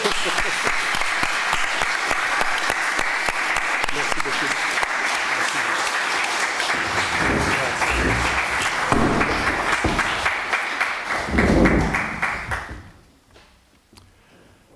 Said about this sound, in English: Bon, on peut peut-être les applaudir